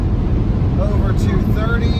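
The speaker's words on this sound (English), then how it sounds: "Back to wide open throttle now." Kia EV6 GT electric car at wide open throttle at high speed, with a steady, loud, broadband roar of wind and road noise inside the cabin and a faint rising whine, no breaks.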